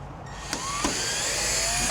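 A power drill bores into the rear door of a Ford Transit van, a steady whirring whine held for about two seconds, close and fairly loud with no talk.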